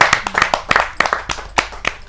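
Audience at a Hindi kavi sammelan poetry gathering claps loudly and close by, a short burst of brisk, uneven handclaps from a small crowd.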